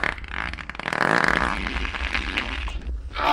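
A long, loud, sputtering fart sound effect in a horror video game rumbles on for a few seconds, crackly and close.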